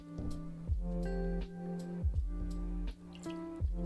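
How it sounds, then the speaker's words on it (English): Rum glugs and drips as it is poured into a bare glass, a series of close, hollow liquid gulps and splashes in an uneven rhythm over a soft hum of background music. "We're gonna pour this into a naked glass. Rum ASMR."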